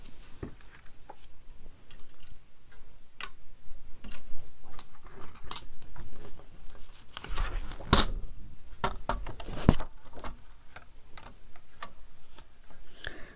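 Scissors cut paper close up in short snips and scattered ticks at an irregular pace, with a couple of louder crisp snips in the middle.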